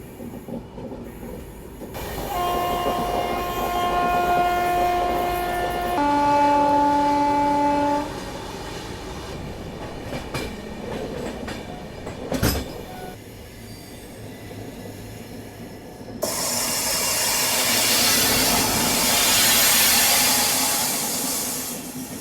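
A passenger train bound for Visakhapatnam sounds its horn in two sustained tonal blasts over a heavy rolling rumble, then runs on with clattering wheels and a broad rushing hiss near the end, with no voices.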